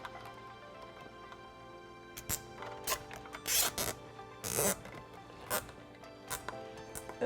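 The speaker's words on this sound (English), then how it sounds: "And then tighten it down as tight as you can." A zip tie cinched tight on a Juiced Bikes RipRacer fender, a series of short ratcheting zips in uneven bursts against a quiet background.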